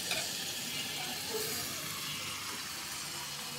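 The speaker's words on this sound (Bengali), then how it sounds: "সবজিটা কষিয়ে নেব" Large eggplant pieces and small potatoes sautéing in a pan, a steady hissing sizzle that fades slightly after a brief opening burst, with no voices.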